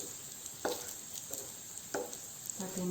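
French toast soya rolls fry in hot oil in a pan with a steady, close sizzle, broken by a few soft clicks and scrapes at irregular intervals.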